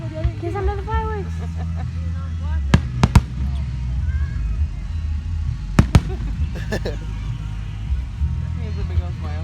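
Fireworks pop and crack in scattered pairs during an outdoor show, moderately distant under steady crowd chatter and nearby talking voices.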